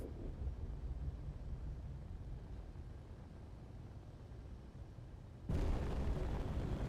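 Ship weapons fire and explosions in Space Engineers rumble as a low, steady roar, then a sudden louder boom bursts in near the end and keeps the din raised afterwards.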